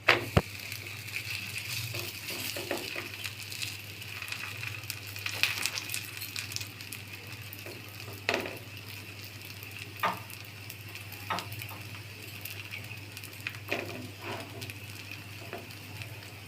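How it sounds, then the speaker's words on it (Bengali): An egg paratha fries in oil on a pan with a steady, quiet sizzle, broken now and then by soft scrapes and taps as it is turned. "এখন এইভাবে উল্টে পাল্টে পরোটাটা লাল লাল করে ভেজে নিব।"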